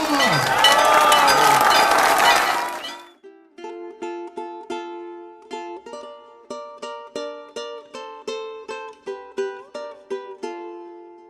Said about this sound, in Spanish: Llamo a Mariano Puga con un gran aplauso entre todos.